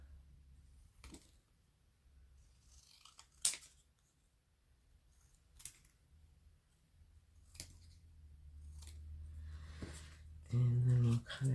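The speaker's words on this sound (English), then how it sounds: "I'm going to cut out these stamps." Scissors snipping paper stamps for papercraft tags, heard as sparse, quiet, crisp cuts separated by long pauses, with a low hum and a brief louder rumble near the end.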